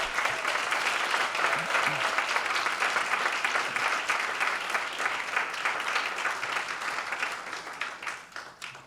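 An audience at a poetry recitation competition finals gives the reciters a sustained round of applause, dense even clapping that carries on for several seconds before thinning out at the end.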